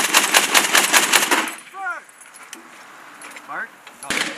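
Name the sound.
heavy machine gun fire, M2 .50 caliber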